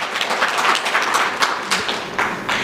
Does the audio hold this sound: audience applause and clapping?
yes